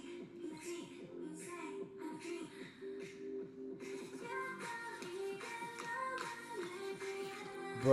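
Dancers' feet shuffle and tap across a practice-room floor during a dance practice, a steady rhythmic scuffing partly masked by loud, continuous pop music throughout.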